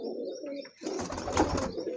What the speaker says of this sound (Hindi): 16 कबूतर और इनकी नस्ल कौन सी है ये मिक्स ब्रीड में है